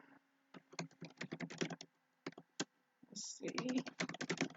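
Quick bursts of typing on a computer keyboard, close and fairly quiet, come in fast clusters with short pauses between them while a person briefly speaks.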